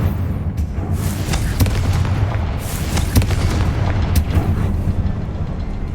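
Confringo blasting spell explosions in the Hogwarts Legacy video game, several loud booming bursts over a busy, rumbling background, with no talking.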